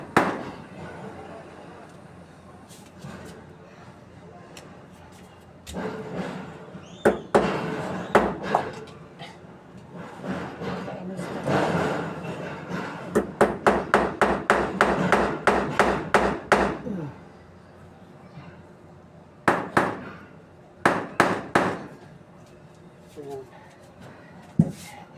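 Nails are hammered in to hang Christmas decorations, with bursts of sharp, close hammer blows in quick runs separated by pauses, and a person talking in between.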